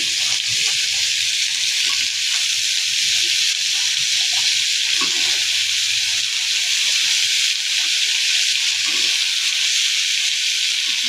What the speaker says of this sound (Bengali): ওলটা দিয়ে দিলাম, 2 মিনিট ভেজে নেব